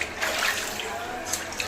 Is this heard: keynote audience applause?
no